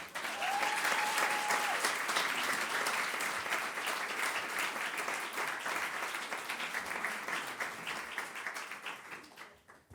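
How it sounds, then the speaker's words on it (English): An audience applauds at an awards evening as Ambassador Claire Cronin is welcomed on stage; sustained, fairly distant clapping holds steady, then fades away at the very end. "if you could please join me in a round of applause for Ambassador Claire Cronin"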